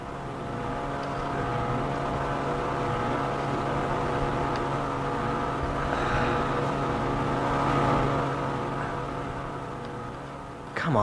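A boat moves on the water at night near a lakeside dock and cabin, its engine a steady droning hum that swells slightly midway before a brief louder bump at the end.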